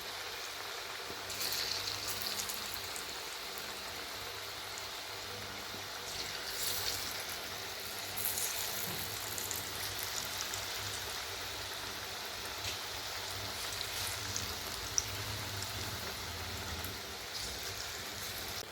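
Potato pakoras sizzle in a pan of hot oil in a home kitchen, a faint, steady crackling and bubbling hiss that continues unbroken with no talk over it.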